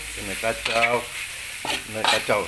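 Fish and chili sauce stirred and frying in a pan, with a steady sizzle and scraping stir strokes close up, no talking.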